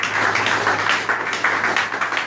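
Church congregation clapping and calling out in acclaim to welcome the pastor at a worship service: dense, steady rhythmic clapping close by with raised voices, continuous and fairly loud throughout.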